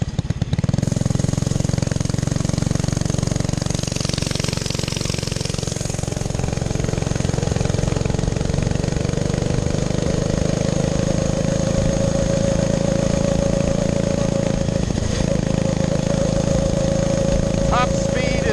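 A 1912 Indian board track racer replica motorcycle engine, a steady, loud, close rattling drone sustained throughout, with someone speaking over it.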